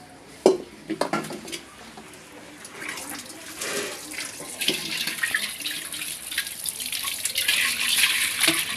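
Dishes, plates and pots being washed by hand at a sink under running tap water, a steady splashing wash with clinks and scrapes of utensils that grows denser and louder toward the end.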